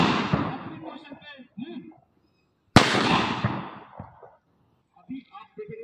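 Gunfire during an NCC cadet drill demonstration: sharp reports sounding over a loud voice, with one strong bang midway followed by more talk and a few short pops.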